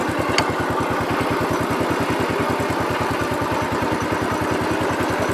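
A 1968 Gravely 430 tractor engine chugs steadily while driving, a loud, evenly pulsing low thump repeating rapidly throughout, close by with no talk.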